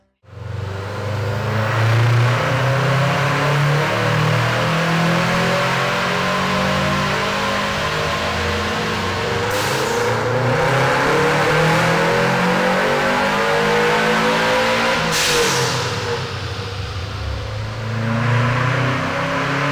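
A Subaru WRX with its original turbo, strapped to a dynamometer, revs hard and continuously, its engine note rising and falling loudly and close for the whole stretch, with no talking over it.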